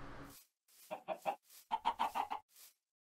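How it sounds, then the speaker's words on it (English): Chickens clucking in the video game Minecraft: a short burst of three rapid clucks followed by a longer run of five or six, close and clear with no talk over them. "There are so many chickens,"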